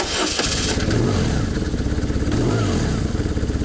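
A BMW R1100RT motorcycle engine started with the green starter button, its boxer engine running loud and close with a steady low pulsing throb throughout, no talk over it.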